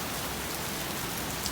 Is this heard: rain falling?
yes